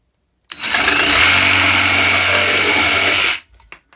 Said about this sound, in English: I wanted to give the circular saw a try.